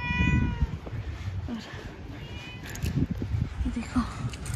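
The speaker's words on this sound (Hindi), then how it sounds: "यहाँ पे हमारे पास एक कैट है क्यूट सी और डॉगी है" A cat meows near a dog, a drawn-out cry at the start followed by softer meows, heard close over a voice talking and outdoor background noise.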